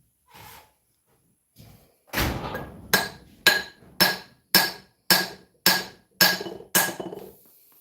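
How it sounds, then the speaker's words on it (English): A big cold chisel struck with a hammer, about nine loud, ringing metallic blows falling at a steady, even pace after a couple of softer taps, close by and alone. "big cold chisel, Tara."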